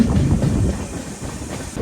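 A passenger train, the Konkan Kanya Express from Mumbai to Sawantwadi, rumbles along its tracks with steady clickety-clack, heard loud and close from inside a moving carriage.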